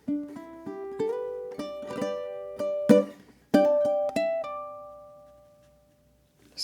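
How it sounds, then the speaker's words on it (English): A ukulele plays a phrase of slow blues, with plucked notes and a slide, ending on one long ringing note that fades out. The playing is solo and close, with no voices. "So kicking into the 5th measure, it's going to sound like this."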